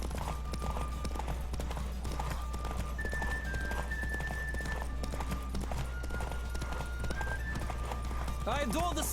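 Rhythmic hoofbeats of a galloping horse in The Witcher 3: Wild Hunt, with game music and effects, ending with a short whinny.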